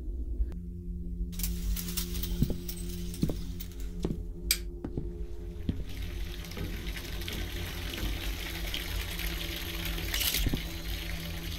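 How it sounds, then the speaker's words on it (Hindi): Bathtub filling with water inside the horror video game Visage, a steady running-water rush from about one second on, with scattered knocks and clicks and a low hum in the background. "पानी भरना शुरू हो गया टब में, खुद ही"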